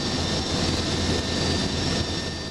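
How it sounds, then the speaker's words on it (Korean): Loud, steady roar of a medical helicopter engine and rotor landing on a school playing field, close by and constant throughout. "옥상 헬기장에서 이륙한 닥터 헬기가 잠시 뒤 지역 비상 착륙장으로 설정된 한 학교 운동장에 도착합니다."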